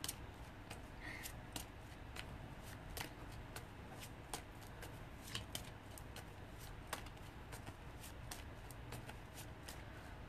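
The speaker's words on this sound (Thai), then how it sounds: "เดี๋ยวอาจารย์สับไพ่ก่อน" Tarot cards are shuffled by hand close up, giving a quiet, steady series of soft riffling flicks and crisp card snaps with no one speaking.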